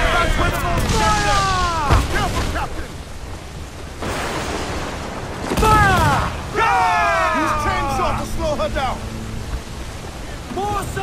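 Ship cannons firing in the pirate video game Assassin's Creed 4 Black Flag: deep booming blasts roll out between loud shouted voices amid a constant rushing noise of sea and wind.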